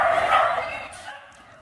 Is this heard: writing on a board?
no